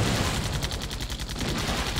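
Rapid automatic gunfire in the AirMech video game during a live fire exercise, a dense and steady stream of loud shots with explosive booms mixed in and no talk.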